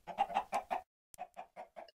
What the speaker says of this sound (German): Hier sind Hühner, guck doch mal.